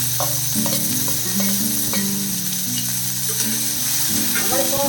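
Chopped onion sautéing in hot oil with cumin seeds and curry leaves, giving a continuous close sizzle over a steady low tonal hum, with no talking.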